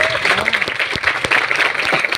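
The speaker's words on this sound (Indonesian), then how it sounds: "Tepuk tangan dulu yang meriah." An audience at a quiz competition in Gali district applauds briefly, giving a burst of scattered claps with a few sharp nearby hand slaps, crowd noise and a voice in the background.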